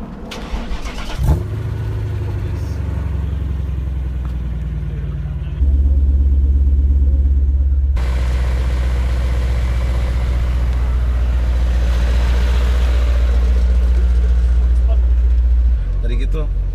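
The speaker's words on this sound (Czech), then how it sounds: "Tady je to, jak se ohřívá ten motor" BMW M5 E39 V8 engine starting up and idling as it warms, a steady deep rumble close by with a shift in pitch partway through, while people talk nearby.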